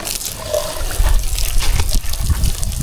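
Water splashes and trickles onto fruit plants in a garden, giving a near, steady gurgling flow that gets louder partway through.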